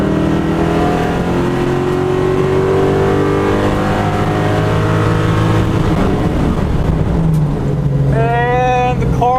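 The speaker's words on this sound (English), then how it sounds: "And the car launched pretty good, but I missed third gear." Ford Mustang at a drag strip, as at Ford Fest, launching hard with a loud, steady engine roar that climbs through gears, near and continuous, with a missed third-gear shift showing as sudden, separate revving near the end.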